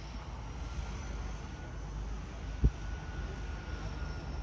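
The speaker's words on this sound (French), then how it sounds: "vous allez voir comment cet avion-là va prendre son envol" A plane's engine drones as a steady broadband rumble ahead of takeoff, holding level throughout with one brief low thump partway through.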